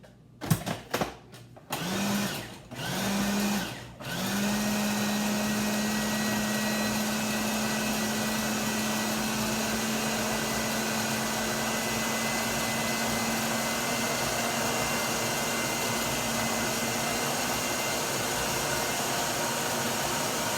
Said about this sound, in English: And then we are going to puree this until it's as fine as we can get it.